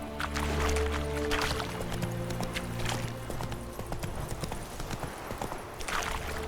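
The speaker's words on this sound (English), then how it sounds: "Whoa there, Roach" Horse hooves clip-clop steadily at a gallop in The Witcher 3 Wild Hunt video game, up close over a low rumble. A brief whinny and a faint voice can be heard.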